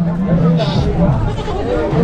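Goats being taken home as gifts bleat amid a busy background of people chattering, the calls fairly loud and continuous over the two seconds rather than clearly separated.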